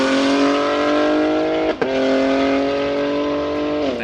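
A cammed Corvette Z06 V8 screams at high revs, loud and near. The harmonic wail holds steady, dips sharply for an instant as it shifts gear, then climbs again.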